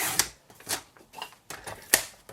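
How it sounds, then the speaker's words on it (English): White card layer being cut for card making, a quick series of sharp crisp clicks and snips with short pauses between them, close and clear with no speech. "So this next layer that I'm going to cut, which is going to be the white one you can see"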